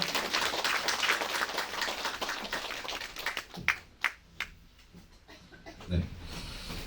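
A crowd at an election campaign office opening ceremony claps in a dense, fairly loud burst that thins into a few scattered, separate claps before fading, with faint murmuring in the room.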